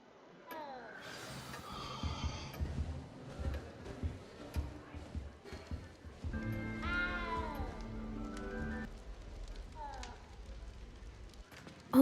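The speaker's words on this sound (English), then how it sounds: "good luck finding that cat" A cat meows inside the castle in the video game Hogwarts Legacy, several short mewing calls sounding among game dialogue, music and background ambience.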